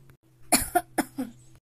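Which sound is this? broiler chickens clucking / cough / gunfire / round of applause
cough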